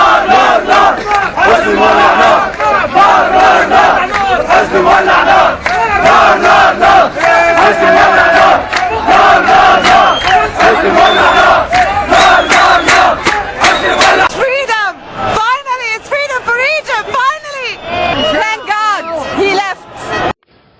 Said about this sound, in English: Egyptians are all cheering for their final independence on the street